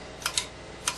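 A few sharp mechanical clicks from the centrifugal switch of a GE/AO Smith 1-1/8 hp electric motor for a Shopsmith Mark V, two quick clicks then two more, close and crisp over a faint background.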